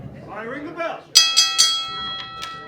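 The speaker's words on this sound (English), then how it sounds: "I ring the bell." A ring bell is struck to open a pro wrestling match, giving three sharp metallic dings in quick succession and then two fainter rings as the tone decays, all after a voice speaks.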